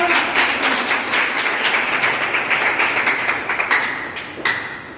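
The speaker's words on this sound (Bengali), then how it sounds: "সবাইকে একটা জোরে হাততালি হবে না?" Applause from an audience at a live in-person meeting, a burst of brisk clapping that thins out toward the end.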